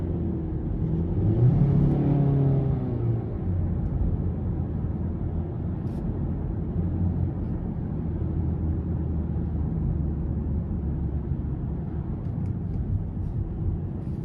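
A 2025 Hyundai Sonata SE engine pulls steadily in sport mode from inside the cabin, a continuous low rumble and whir holding for the whole stretch with no talk over it.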